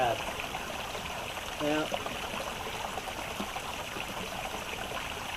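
Constant broadband rush of a waterfall and stream at its base in damp Australian bush, loud and steady throughout, with someone speaking briefly over it.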